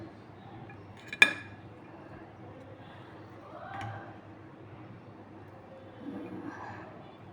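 Pilaf (polao) is served onto a plate with metal utensils: one sharp clink stands out near the start, followed by softer scrapes and light taps in a quiet room.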